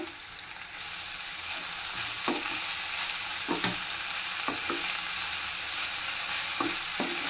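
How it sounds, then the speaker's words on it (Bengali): Vegetable roll filling sizzling in a hot pan while a spatula stirs it, an even hiss punctuated by several distinct scraping knocks, without any voices. "এখন খুব ভালোভাবে একটু মিশিয়ে নিয়েছি।"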